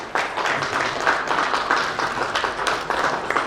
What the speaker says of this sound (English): A round of applause, please, as they come forward.